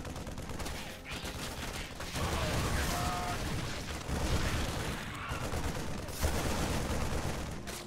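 Widow Mines firing on Mutalisks in a StarCraft 2 match, a burst of explosive impacts and mechanical clatter amid dense, busy battle noise.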